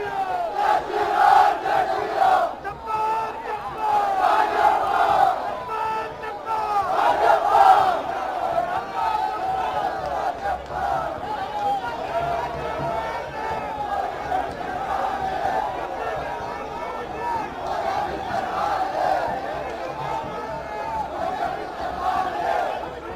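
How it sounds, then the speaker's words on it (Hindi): A large crowd at Amit Shah's road show in Nathdwara, Rajasthan roars and chants continuously, loud and sustained with rising surges of shouting and cheering, and a voice talks through it. "भारी भीड़ आप देख सकते हैं।"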